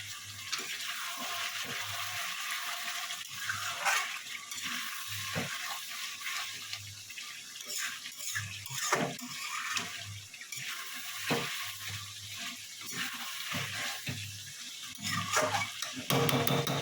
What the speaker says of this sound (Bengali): একটুখানি জল দিলাম, আমি গরম জল দিলাম